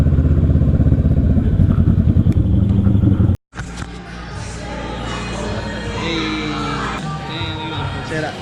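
A motorcycle engine runs loud and close, a steady rumble with clattering texture, broken by a brief cutout before it resumes; voices talk over it.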